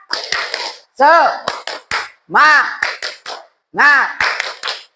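Classroom children perform a rhythmic spirit clap, short bursts of sharp hand claps alternating with loud chanted group voices in repeated patterns, close and lively.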